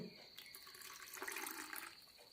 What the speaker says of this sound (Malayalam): കുറച്ചുകൂടി വെള്ളം ഒഴിക്കാം